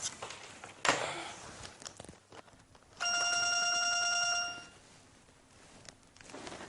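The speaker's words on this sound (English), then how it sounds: "the phone is ringing" A telephone rings once in a steady electronic tone lasting about a second and a half, amid faint room noise and a few footsteps and knocks.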